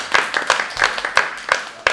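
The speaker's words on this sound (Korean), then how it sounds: "귀한 시간 내주신 코치님에게 박수" A small group claps for a coach at a fitness coaching session, about two seconds of quick, uneven hand claps close by, with no talking over them.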